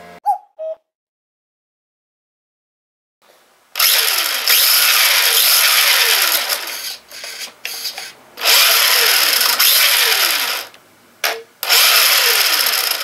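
Small hobby RC car electric motor bought cheaply at auction, whining loudly in several sustained bursts of a few seconds each, separated by short pauses after a quiet start.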